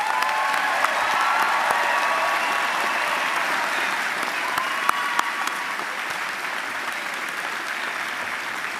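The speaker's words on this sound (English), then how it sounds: "We clap loudly because we want to honor your achievements" An audience applauds graduates at a university ceremony: steady, sustained clapping from a large crowd throughout, even and moderately loud, with no talking over it.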